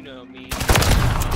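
Shotgun fire in Call of Duty MW3 erupts after a brief quiet lead-in: a loud, dense volley of close blasts in rapid succession, with a voice faintly present beneath the gunfire.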